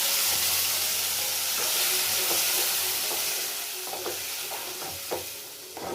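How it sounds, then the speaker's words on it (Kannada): Ground spice paste hits hot oil in a frying pan with curry leaves, giving a loud, steady sizzle with stirring clinks and scrapes throughout, no voices. "ನೆಕ್ಸ್ಟು ನಾವು ರುಬ್ಕೊಂಡಿದ್ವಲ್ಲ ಅದನ್ನು ಇದಕ್ಕೆ ಸೇರಿಸ್ತಾರೆ"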